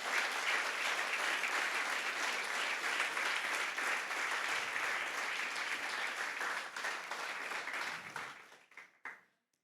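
A church congregation applauds in a long, dense burst of clapping that holds steady, then thins and dies away near the end.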